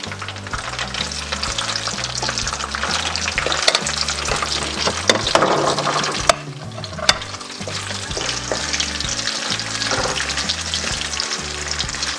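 Potatoes and onions frying together in a pan, a loud continuous sizzle with crackles, scraping and clatter as they are stirred, close up and without speech.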